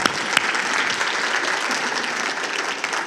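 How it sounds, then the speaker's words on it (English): At a Brownsville State of the City address, a crowd applauds with loud, thick, continuous clapping that holds at an even level for about three seconds, with no talk over it. "we can applaud that."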